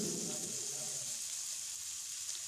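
Cluster beans fry with salt, chili powder, coriander powder, turmeric and peanut masala, giving a steady, faint sizzle with a bit of louder stirring at the start.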